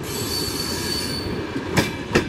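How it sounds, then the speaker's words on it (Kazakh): Almaty–Saratov passenger train, Kazakhstan's number 7 branded service, pulling in on the first track at Turkistan station: a steady close rumble of rolling wagons with wheel squeal and two sharp rail knocks near the end. "Ташкент Самараның артынша бірінші жолға Алматы Саратов пойыз келді"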